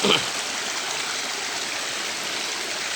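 A waterfall near Gulli, Paderu gives off a steady, loud, even rush of falling water that fills the whole stretch without a break.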